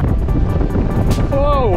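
Steady, loud wind buffeting the microphone outdoors on a hilltop ranch above the Pacific during a 100 km trail race, a continuous roar with gusts, and a faint whistling tone rising near the end.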